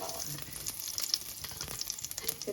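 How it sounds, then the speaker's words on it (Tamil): Mustard seeds and urad dal frying in hot oil for a carrot and leek stir-fry, an irregular crackle and popping sizzle with quick spitting bursts, close and fairly loud. "கடுகும் உளுத்தம்பருப்பும் வடிச்சிட்டு பொன்னிறமாக வந்தவுடனே செத்தல் மிளகாய் போடுவோம்"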